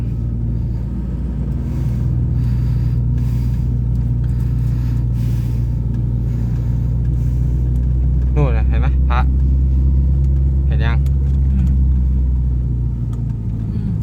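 A sedan's engine grinding up a steep hill in low gear, a loud steady rumble that holds throughout, with a short squeaky sound partway through.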